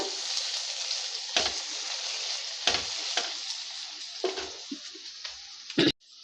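Onion-chili paste sizzling steadily in a hot pan while a spoon stirs it, with a few distinct scraping strokes breaking through the continuous fry and a sharper clatter near the end.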